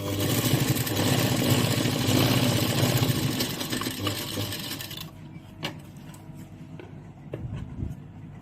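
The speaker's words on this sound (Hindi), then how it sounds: "अब हम यहाँ पर इस तरीके से वापस एक सिलाई लगाएंगे" A sewing machine stitches a mirror work blouse with a dense, fast mechanical rattle for about five seconds. It then stops, leaving quieter scattered clicks and handling noises.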